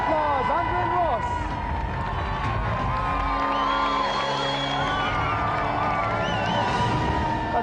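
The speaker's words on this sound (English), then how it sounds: "let's have another round of applause." Studio audience of a television video-game show clapping, cheering and whooping loudly and continuously, with a presenter's voice over the crowd and musical tones in the background.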